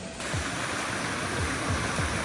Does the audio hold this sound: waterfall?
yes